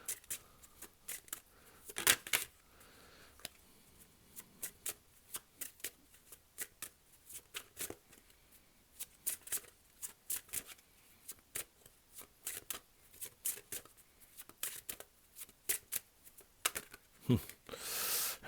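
Tarot cards are shuffled up close in a long run of crisp, irregular snaps and riffling bursts, loud and isolated, with quiet pauses between them.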